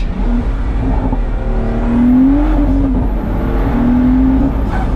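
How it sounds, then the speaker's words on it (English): Ferrari SP3 roof scoop intake roaring right behind the driver's head while racing, a loud continuous engine howl that rises and falls with revs, close and dominant with no talk. "is that roof scoop noise right behind your head"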